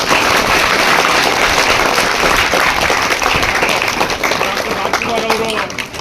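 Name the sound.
audience applause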